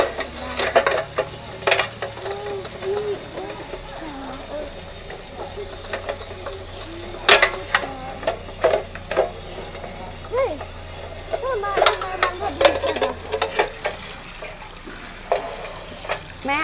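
Tray being washed at a sink, with running water and scattered clattering knocks and scrapes throughout, heard at close range over a steady low background hum.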